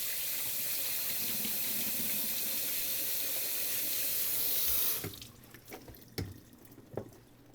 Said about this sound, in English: pour these in to the strainer, turn the water on